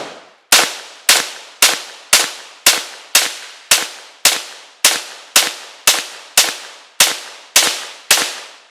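Rapid, evenly spaced string of about sixteen sharp, close gunshots from a shouldered gun, each crack decaying quickly before the next.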